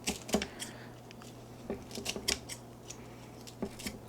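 Kitchen scissors cutting ramps (wild leeks) during pesto preparation, a series of quick, sharp snips in an irregular rhythm, close and fairly quiet, with no voices.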